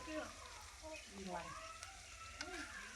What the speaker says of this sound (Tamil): இந்த அளவுக்கு தாங்க வதங்கணும் நம்மளுக்கு வெங்காயம்